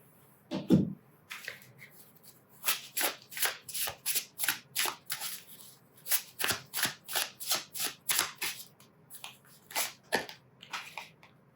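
Timing cards being shuffled in quick, rhythmic bursts of riffling, close and crisp, with short pauses between runs.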